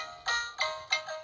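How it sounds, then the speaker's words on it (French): A Peppa Pig toy doll plays an electronic tune of three bright, ringing tones in quick succession, clear and close in a quiet room. "regardez la Peppa Pig, écoutez ce qu'elle fait."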